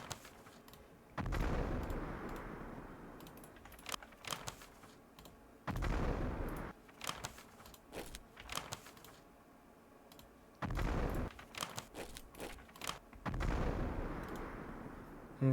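Artillery fire in the CAOS wargame, Battle of Gazala: several heavy booming salvos at irregular intervals, loud and broad, with sharp clicking and tapping sounds between them.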